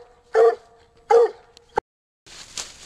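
Coonhound barking at a treed raccoon on a night coon hunt: two loud barks about a second apart, then a short yip, followed by faint rustling and breathy noise.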